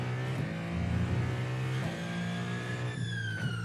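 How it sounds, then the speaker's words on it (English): Turbo of a Ferrari GTP race car in the iRacing video game at Watkins Glen, a steady high whine over the droning engine note, loud and continuous, with the pitch shifting near the end. "That's the turbo."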